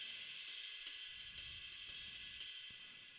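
Ride cymbal from the EZdrummer drum plugin plays a steady pattern, bright shimmering pings struck about every half second with a lingering wash, quiet and alone.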